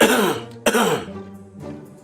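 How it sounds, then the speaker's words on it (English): One person gives a couple of harsh, close coughs that sound partly like throat clearing, in two separate bursts with a short pause between them. "It's the cough and cough now."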